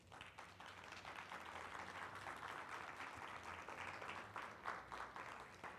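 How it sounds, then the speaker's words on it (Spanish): A church congregation claps together in a steady, dense round of applause that runs unbroken and faint, heard at a distance. "Dale un aplauso a Dios."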